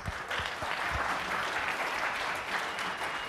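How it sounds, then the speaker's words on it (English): Conference keynote audience claps to vote for a winner, a steady spread-out wash of applause from a crowd, moderately distant, with a few low thumps at the start. "we're going to pick the winner here by a round of applause"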